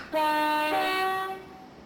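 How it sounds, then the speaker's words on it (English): A train horn in Train Simulator 2015 sounds once, loud and close, as a steady harmonic chord held for just over a second before it fades. "Got the train horn"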